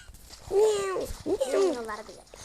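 A person imitates a cat, giving two drawn-out, pitch-bending meows close to the microphone in a quiet room.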